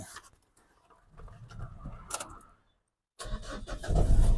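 A few faint clicks and rustles, a short silence, then a 2013 Mitsubishi Triton 2.5 pickup truck engine cranks and catches into a low, rising idle.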